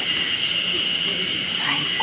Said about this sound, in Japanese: セミの声しか聞こえない